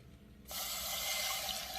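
Water pours into a pot of sugar for a candy syrup in a home kitchen. A steady rushing stream starts abruptly after a moment of quiet and continues evenly to the end.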